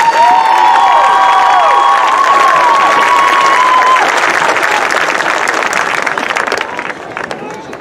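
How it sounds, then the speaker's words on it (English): Applause and cheering from a large audience at the Brentwood High School Class of 2023 graduation ceremony, steady and full for several seconds before tapering toward the end. "another round of applause for this row of prizes"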